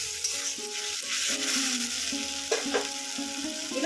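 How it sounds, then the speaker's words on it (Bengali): An onion and tomato paste masala is stirred as it fries in a pan, a steady sizzle with a spoon scraping and turning, close and continuous, while a soft melody plays in the background. "নাড়াচাড়া করে মশলাটাকে ভালো করে কষাতে হবে"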